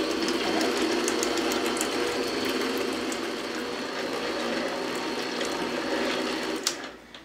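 An electric mixer beats butter and eggs on low speed, a steady close whirring hum with a faint rattling texture that cuts off at the end.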